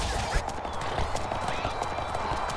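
A horse gallops in the video game Happy Wars, its steady, rapid hoofbeats clopping close and loud over continuous game noise.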